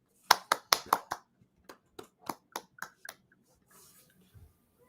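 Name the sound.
round of applause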